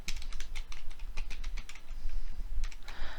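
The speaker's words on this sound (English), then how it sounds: "I'm typing this Microsoft Power Platform stories in Google" Typing on a computer keyboard to enter a Google search, a quick run of close, crisp key clicks in uneven bursts with short pauses between them.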